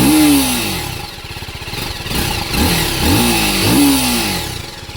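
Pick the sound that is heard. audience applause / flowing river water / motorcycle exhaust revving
motorcycle exhaust revving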